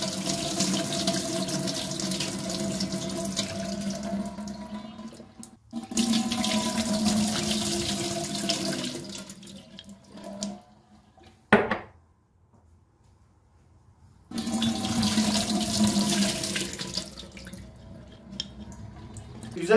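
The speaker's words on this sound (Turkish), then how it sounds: "Yeşil yeşil suyumuz bu şekilde güzelce süzülüyor." Green olive soaking water pours and drains through a strainer into a sink in steady bursts, stopping briefly between pours, close and clear with no talk.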